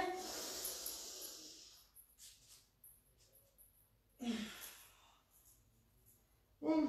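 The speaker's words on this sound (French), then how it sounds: "Encore deux, j'inspire." Slow yoga breathing during a guided session, with long airy inhales and exhales separated by quiet pauses, close and soft.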